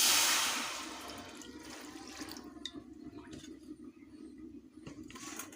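Water pours over chopped banana flower in a bowl for soaking, a steady rushing splash that starts loud and settles into a softer continuous trickle with a few small clinks.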